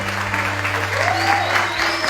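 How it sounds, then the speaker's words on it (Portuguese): A church congregation at an Assemblies of God service claps steadily and fairly loudly, with a faint sustained tone and a voice drifting underneath. "Também, com aplausos e mérito, nossa jovem Isabela da Silva França."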